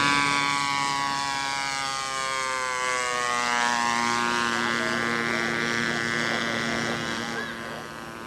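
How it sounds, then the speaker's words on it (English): A scale model airplane makes a fly-past down the runway at the 1988 Scale Masters competition. Its engine whines loud and steady, with the pitch sliding lower as it passes and then fading slightly. "Do the fly past on this pass, fly past starting now."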